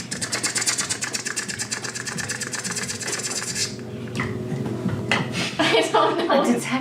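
A voice imitates a spinning, clicking umbrella during a tabletop role-playing game, with rapid rattling clicks for several seconds, then shifting into rougher vocal noises with other voices in the background.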